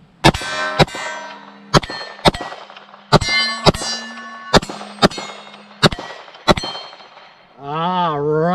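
Beretta 96 Elite .40 S&W pistol fired in double taps at steel targets roughly 10-12 yards away: loud paired shots each followed by a ringing metallic clang, moving through several targets, then someone talking.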